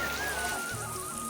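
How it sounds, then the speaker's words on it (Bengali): Heavy rain pours onto a roof at a Kali temple under construction, a dense, steady hiss close by with no talk over it. "জল পড়ছে প্রচুর জোরে, তো এখন সব বন্ধ আছে কাজ।"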